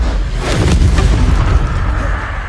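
The Incendio fire spell goes off in Hogwarts Legacy as a loud, sustained roaring burst of flame that fills the whole moment with a dense, booming rush.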